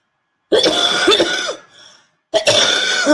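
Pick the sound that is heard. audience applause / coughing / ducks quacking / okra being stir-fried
coughing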